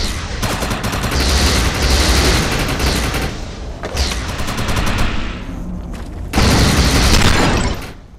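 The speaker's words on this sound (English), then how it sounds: "Shoot the projection while Overcharge is activated." Heavy gunfire from an Overcharge-boosted weapon in the video game Defiance, loud sustained bursts of rapid shots with booming impacts, briefly pausing twice before resuming.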